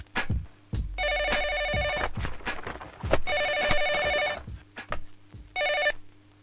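In a Kannada comedy movie scene, a telephone bell rings in three loud bursts, separated by clattering knocks and footsteps as someone hunts for the phone.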